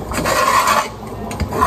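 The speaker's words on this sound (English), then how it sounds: "I just don't like the scraping sounds." Cooked spaghetti noodles scraping against a metal pot as they are poured into a strainer: a close, continuous rasping scrape with uneven surges, alone without talk.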